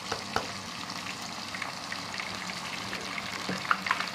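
Ginger garlic paste sizzles and spits in hot oil left from frying chicken for chicken pickle, a steady close crackle with a few louder pops and stirring scrapes toward the end.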